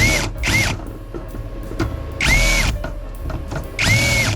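Power drill or driver tightening terminal screws on an inverter: three short, loud bursts of whining motor at close range, separated by pauses with low background hum.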